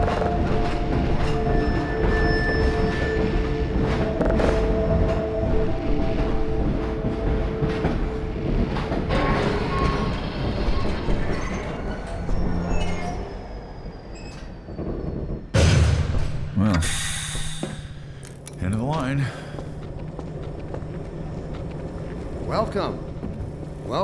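Steady rumble and clatter of a train ride in the video game Half-Life 2 on Android, with rolling mechanical noise and a sharper metallic burst later; voices talk over it at points.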